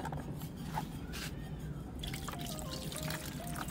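Water splashing and trickling steadily while an iron plate coated with deposited copper is washed by hand, close and continuous with scattered drips, no one speaking.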